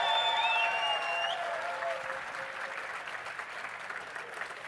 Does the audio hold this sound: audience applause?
yes